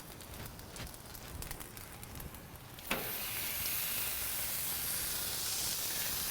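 A burger patty sizzles on a hot griddle, a faint crackle at first that jumps at the moment it lands into a loud, steady frying hiss held to the end.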